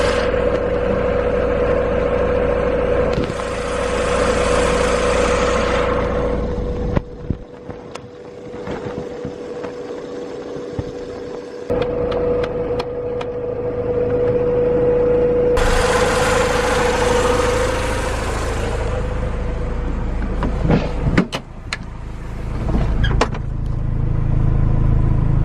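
A station wagon's engine runs after an OBD1 conversion, a steady idle hum with a sustained tone, broken by shifts in loudness, clicks and bursts of noise as it keeps running nearby.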